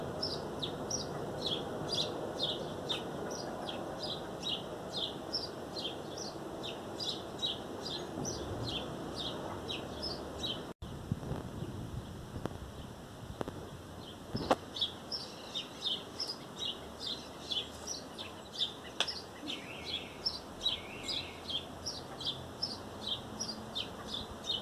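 Backyard birds sing in spring near a thrush nest, repeated bright chirps and calls from several birds over faint background noise, steady and moderately distant.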